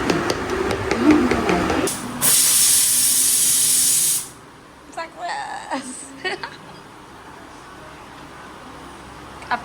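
A pressure cooker cooking beef curry lets out one loud, sustained hissing steam whistle lasting about two seconds, then falls quiet, leaving only faint kitchen clatter and low background sound.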